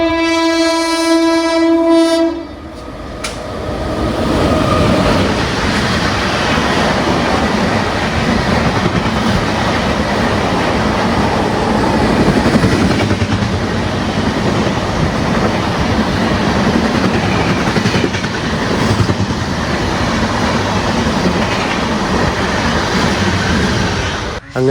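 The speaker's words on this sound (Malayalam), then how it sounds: "നമ്മുടെ തിരുനെൽവേലി ഹംസഫർ വരുന്നുണ്ട്." Tirunelveli Humsafar express hauled by a WP5 locomotive passing Ezhimala railway station. It opens with a loud, sustained horn blast, then a close, heavy, continuous rumble and clatter of coaches for over twenty seconds.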